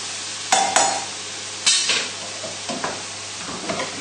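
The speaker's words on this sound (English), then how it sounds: "we'll just give our leeks a little stir." Leeks being stirred in a pan over a low sizzle, with several close scraping and knocking strokes of the utensil against the pan in uneven bursts and no talk.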